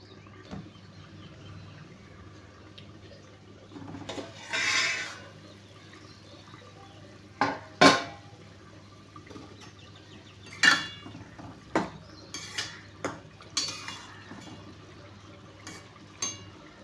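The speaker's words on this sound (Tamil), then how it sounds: "2 குடம் தண்ணி பிடிச்சிக்கலாங்க." Water pots fill at a tap in a home kitchen with a low steady hum behind them, broken by scattered clanks and knocks of metal vessels and a brief rush of running water.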